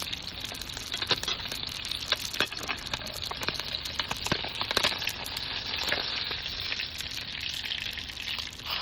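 Food fries in a pan at home, a steady crackling sizzle with frequent sharp pops and spits, close by and without voices.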